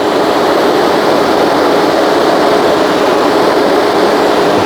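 Delta PAG 14 inch brushless fan running at maximum speed, a loud, steady broadband whoosh of rushing air that holds constant throughout with no pauses.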